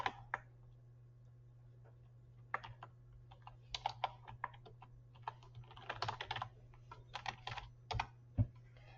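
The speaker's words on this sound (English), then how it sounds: "in all uppercase I am going to type the word lipstick" Typing on a computer keyboard, quiet irregular bursts of clicking keystrokes close up, with short pauses between clusters and a low steady hum underneath.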